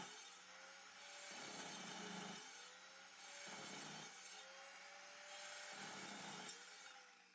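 A metal-cutting chop saw slices through a 1-inch square bar of 12L14 mild steel, a steady grinding, rasping cut heard up close with a faint high whine and brief dips in the effort, alone without talk.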